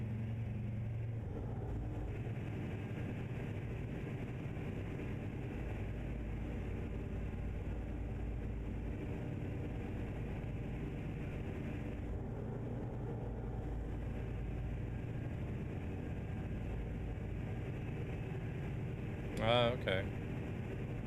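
A truck engine idles in a truck-driving video game, a steady low droning rumble under a constant hum that lasts throughout, with a brief higher whine near the end.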